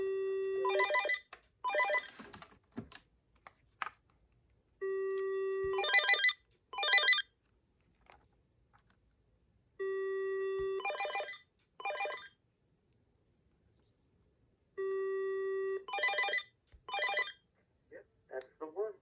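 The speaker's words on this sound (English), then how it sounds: "Let's turn down that bass ringer so we can hear the handset a bit better." A vintage AT&T telephone with a bass ringer rings in four bursts, each a steady low tone followed by two short trilling rings, spaced evenly and moderately loud with no talk between them.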